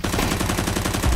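Rapid automatic gunfire from a first-person shooter game, loud and close, a fast continuous burst of rounds filling the short moment.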